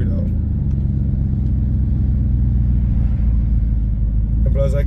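Loud Chevy 5.3 V8 engine idling steadily, a deep continuous rumble close by that fills the whole stretch, with faint voices briefly audible near the end.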